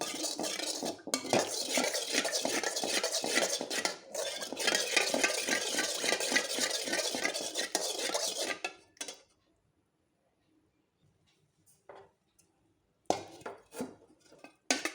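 A spoon stirs mango pudding mixture in a metal pot with rapid, rhythmic scraping and clinking for about eight seconds, then goes quiet apart from a few brief clinks near the end.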